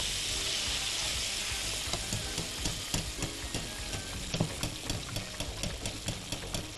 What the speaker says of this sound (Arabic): واقوم ايه مقلبه مغطسه الاجنحه في الصوص بتاعي بالشكل ده اهو